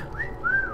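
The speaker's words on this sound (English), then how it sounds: "Nice whistle." Whistling in the video game Assassin's Creed Syndicate: two short rising-and-falling whistled notes, fairly clear over a low background hum.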